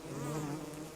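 Killer bees in the video game Don't Starve, giving a close, continuous droning buzz for about a second, alone and fairly soft.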